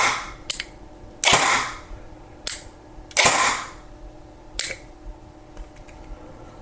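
Perun clicker in an airsoft gun firing semi-auto: sharp single clicks and louder snapping shots, about seven spaced irregularly, close and with no talk.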